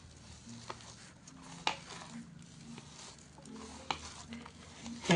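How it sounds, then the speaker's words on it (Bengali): Spicy chili bharta being mixed by hand with mustard oil: soft wet squishing and patting with occasional sharper clicks, close and quiet, irregular in rhythm. "এখন এগুলোর সাথে ভালো করে মাখিয়ে নিলেই কিন্তু ভর্তা রেডি।"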